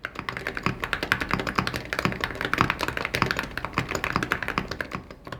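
Rapid typing on a Wooting keyboard fitted with blank StereoKey ceramic keycaps, a dense, steady stream of close, clacky keystrokes with no talking.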